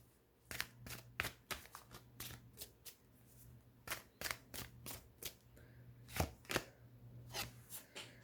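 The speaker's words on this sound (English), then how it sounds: "when I'm shuffling, it's taking longer for a standout card to sort of pop up" Tarot cards being shuffled during a card reading, a run of crisp riffling and flicking bursts in irregular clusters, close and fairly quiet over a low steady hum, with no talking.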